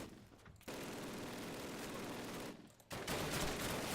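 An MG machine gun in Call of Duty's Berlin finale firing long, sustained automatic bursts, loud and dense, with a short gap before another sustained stream of fire.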